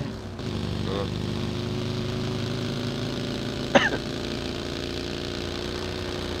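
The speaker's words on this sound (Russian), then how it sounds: "Трактор бегает." Steady low engine drone of a tractor running in PUBG, a continuous idling rumble filling the whole stretch, with a brief sharp click or knock partway through and no talk.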